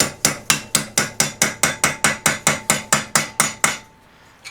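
A steady run of about fifteen sharp metallic hammer blows drives a screwdriver and chisel to free a bearing from the jack shaft of a Craftsman riding mower, evenly paced and close, then stopping.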